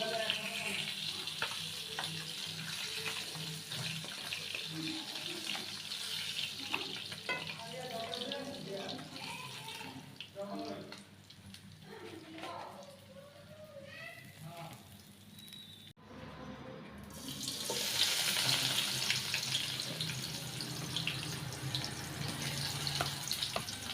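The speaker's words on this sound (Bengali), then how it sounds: "পেস্টটা দিয়ে দিলাম পেস্ট একটু ভাজা ভাজা হইলে তারপর মশলা দিব" Spice paste for a fish and eggplant curry fries in a pan with a steady close sizzle, broken by stirring scrapes and a brief splash of running water before the frying swells louder again.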